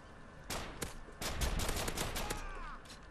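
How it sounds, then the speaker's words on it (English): Rapid bursts of gunfire in the video game All or Nothing, a cluster of sharp shots repeating in quick succession with brief gaps, loud and close, with no voices over them. "That is the first time I've ever shot on All or Nothing."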